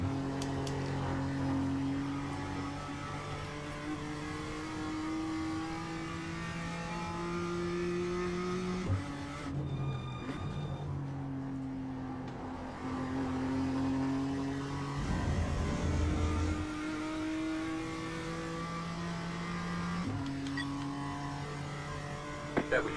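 Race car lapping the Summit Point circuit, its engine droning steadily and rising and falling in pitch through gear changes and braking zones, heard from inside the cockpit and continuous for the whole stretch.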